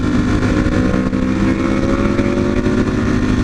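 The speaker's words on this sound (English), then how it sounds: "There comes a biker. MT10." A Yamaha MT-10 motorcycle going past on a road, a loud continuous engine roar heard close, steady throughout with no talk.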